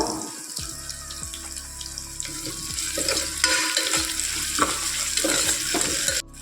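Onions frying in a pan with a little rock salt give a constant sizzle, overlaid by a few stirring scrapes that grow louder and busier in the second half before a sudden stop.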